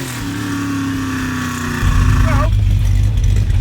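A 1967 Mustang engine idles with a steady, loud low drone, then revs up to a deeper, heavier roar, heard up close and alone.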